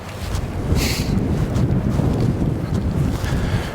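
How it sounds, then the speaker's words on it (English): Steady outdoor wind buffets the microphone in a continuous low rumble, constant and fairly loud throughout, with a brief brighter gust near the start, at a gun dog handling session. "Wind's picking up a little bit."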